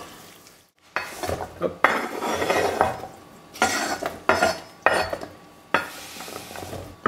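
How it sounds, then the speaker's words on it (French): Pears, endives and beer are stirred in a cooking pot, with a spoon scraping and clinking against the metal in several short bursts and pauses between them, plus a faint sizzle. A voice says a single brief word. "On mélange légèrement."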